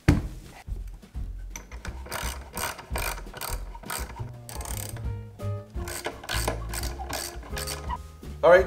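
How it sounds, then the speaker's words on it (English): A ratchet tightens lag screws on a wooden Christmas tree stand, producing rapid close-up bursts of ratcheting clicks in repeated strokes with short pauses between them. "And we're just going to lift it up, set it down, and tighten the lag screws."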